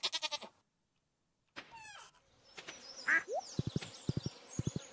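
A short goat bleat sounds at the start in the Stardew Valley farm game, then falls silent. Bird chirps, a chime and rhythmic soft clicks or footsteps follow in the game's farm ambience.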